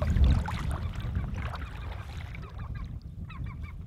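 Gulls calling over water during a floatplane trip in the boreal forest: a few repeated, laughing-style cries in the latter half, moderately distant, above a steady low rumble of water and boat noise.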